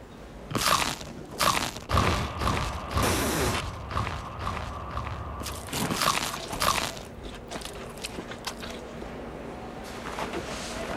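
Crunchy cheesy pizza bites are chewed in a series of loud, close, crackling crunches with creaks between them, fading into softer chewing toward the end.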